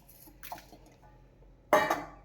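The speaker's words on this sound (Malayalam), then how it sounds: "ഇനി നമ്മൾ ചെറുപയർ കുക്കറിനകത്തേക്ക് ഇടാം" A short rattling rush of small dry mung beans poured into a metal pressure cooker, loud and close, after a quiet stretch with faint clinks.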